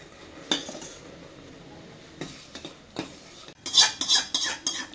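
A spoon scrapes and clinks against a metal vessel while a sweet ladoo mixture made with ghee is stirred, the strokes coming in short, irregular clusters that grow louder toward the end.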